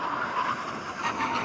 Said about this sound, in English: now we're going to have a brake test from 100 miles an hour